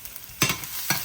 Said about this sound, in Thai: ส่วนวิธีของข่อยแม่นข่อยสิเจียวผักเทียมก่อน